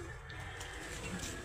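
A large imported pigeon coos softly, with low, muffled calls under steady background hum and no clear talk.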